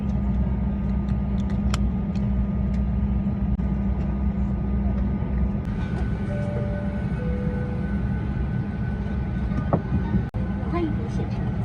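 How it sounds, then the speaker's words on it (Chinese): Constant low engine hum of an aircraft cabin, a steady drone with faint background murmurs and a brief soft chime. "现在已经上了飞机了，马上起飞了"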